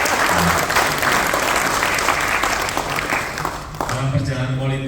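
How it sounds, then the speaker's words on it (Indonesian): A crowd at an alumni gathering and political declaration in Central Java claps loudly and densely for several seconds before fading, with a voice starting to speak over the tail. "Tepuk tangan buat kita."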